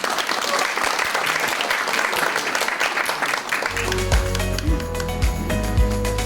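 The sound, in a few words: audience applause welcoming a speaker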